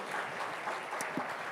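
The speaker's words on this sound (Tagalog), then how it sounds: "palakpakan po natin yung mga cell leaders natin" A church congregation applauding their cell leaders, a steady wash of many hands clapping at moderate distance throughout, fairly even and sustained.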